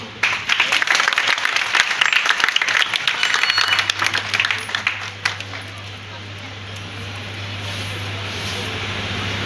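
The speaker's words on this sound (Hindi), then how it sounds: "एहसास दिलाओ तालियों से यार।" Sustained applause and clapping from a crowd, dense and steady for several seconds before thinning out, with a low steady hum underneath.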